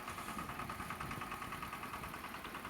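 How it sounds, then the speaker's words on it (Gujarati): A VST mini power tiller's 13-horsepower engine, fitted to an opener, idles in a steady, continuous low chugging drone, faint and unchanging. "અમારે મિની ટ્રેક્ટર કે જેનું નામ છે VST પાવર ટીલર"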